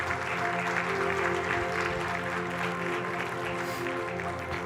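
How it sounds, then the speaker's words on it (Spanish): Congregation applauding for the Lord during a church service, a steady dense wash of clapping from a large crowd filling the room, with church music tones sustained underneath. "Démosle un fuerte aplauso al Señor"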